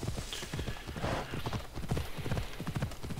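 Horse hooves clip-clopping in the video game Assassin's Creed Odyssey, a steady rapid galloping rhythm of close, loud hoofbeats.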